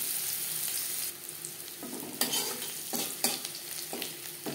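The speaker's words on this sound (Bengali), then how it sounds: "2-3 মিনিট পেঁয়াজ ভেজে নেওয়ার পর দিয়ে দেবো মশলার পেস্ট" Chopped onion fries in a small amount of oil with a soft continuous sizzle, interrupted by several sharper stirring scrapes and bursts as the pieces are moved around the pan.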